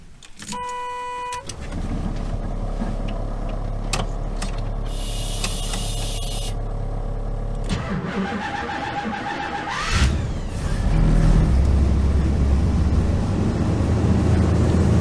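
A 1977 GMC motorhome engine cranks and cold-starts, then settles into a steady, loud idle that runs continuously near the listener, with a rise in revs toward the end.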